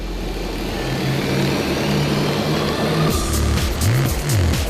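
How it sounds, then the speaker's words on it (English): Racing karts lapping the Rye House track during the London Cup, with a continuous close engine drone and rising and falling revs as karts pass, loud throughout with no talking. "some of the quicker karts will complete a lap in just 35 seconds"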